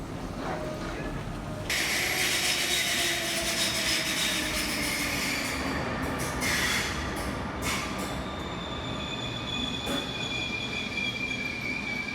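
A train in Zurich rolls steadily with a loud continuous rumble and high metallic wheel squeals rising and falling along the rails.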